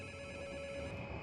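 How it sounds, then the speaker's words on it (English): A telephone rings steadily inside a video game set on Shironagasu Island, its electronic bell tone sustained and fairly loud with no talking over it. "Another phone call."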